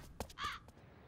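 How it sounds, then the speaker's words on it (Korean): A crow caws once, fairly faint and brief, over a quiet background. "이번엔 까마귀야?"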